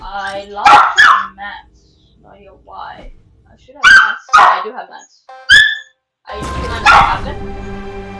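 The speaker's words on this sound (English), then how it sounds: "That's my dog barking" A pet dog barks several times, a series of sharp, close, loud barks spaced out between bursts of someone talking over it.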